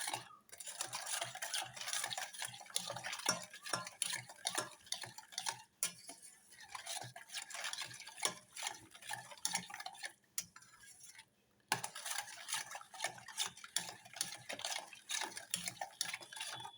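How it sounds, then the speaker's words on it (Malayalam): A spoon stirs cocoa powder into chocolate cake batter in a bowl, producing rapid, rhythmic clinking and scraping strokes, close up, with a couple of brief pauses and no talking. "അതിനകത്ത് നമ്മൾ കൊക്കോ പൗഡർ ഒരു സ്പൂൺ അതിടണം അതിട്ടിട്ട് അതും നല്ലോണം കലക്കണം"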